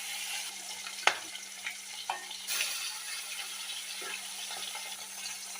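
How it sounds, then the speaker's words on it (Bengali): Fish pieces, marinated with potato curry spices in mind, frying in hot mustard oil in a kadai, giving a quiet steady sizzle with a few sharp clicks and splashes as pieces go in one by one, no voices. "এবার আমি এক এক করে মাছগুলো ভেজে নেব।"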